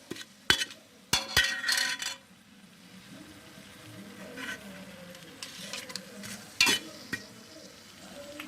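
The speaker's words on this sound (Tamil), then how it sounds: "இது எல்லாத்தையும் நல்லா ஃப்ரை பண்ணிக்கோங்க" Whole spices, cloves and cardamom, frying in a pressure cooker for chicken biryani, with a steady low sizzle broken by sharp clinks and scrapes of a utensil against the pot, loudest near the start and again briefly toward the end.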